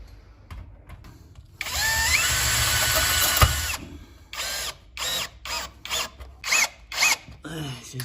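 A power drill bores a hole into a ceiling for a short screw, running loudly and steadily for about two seconds, then followed by several short drill bursts. Faint background noise comes before the run.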